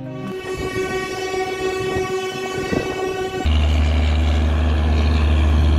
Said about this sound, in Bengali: এই যেমন এখানে ফারাক্কা এক্সপ্রেস দাঁড়িয়ে আছে, দিল্লি যাবে